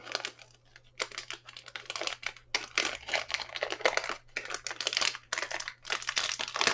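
A Gan XS speed cube is pried open, giving close, quiet bursts of plastic clicking and crackling in uneven clusters with brief pauses between them.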